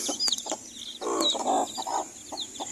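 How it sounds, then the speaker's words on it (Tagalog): Hens cluck close by amid newly hatched chicks on a backyard poultry setup, short irregular clucks and high chick peeps scattered throughout, with no talking. "10 na sisiw mga kabrad."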